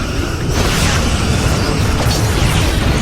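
Borg vessel exploding in the space combat game Star Trek Legacy: a loud, dense, continuous blast roar with crackling debris throughout a few seconds.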